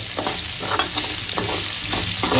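Chopped ginger frying in oil in a pan: a loud, close, continuous sizzle with rhythmic stirring strokes scraping through it, no voices.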